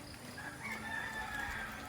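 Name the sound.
rooster crowing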